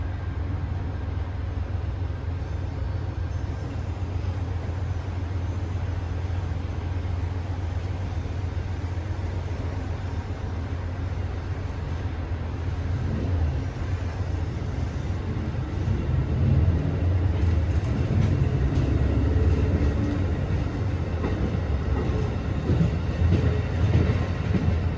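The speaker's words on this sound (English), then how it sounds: "Train pulled out and stopped." An Amtrak or VRE passenger train pulls out of Fredericksburg station on a cold, rainy afternoon, a low steady rumble that swells and grows rougher in the second half, with wind and rain noise throughout.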